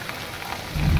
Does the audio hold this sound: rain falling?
yes